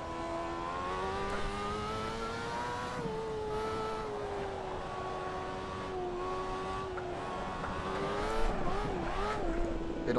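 A Lotus Exos 125 race car lapping Mugello in Assetto Corsa, its engine holding a steady high-pitched drone that dips and climbs through gear-held cornering, with a brief rougher burst near the end.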